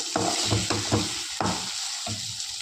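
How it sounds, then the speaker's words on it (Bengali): Egg frying in a hot pan while being stirred, a steady sizzle broken by several scraping stirs, close and alone with no talk, while instant Maggi noodles are being made. "দেখতে পাচ্ছ ডিম দিয়ে দিয়েছি, এখন আমি ভালো করে নেড়ে চেড়ে নেবো একটু"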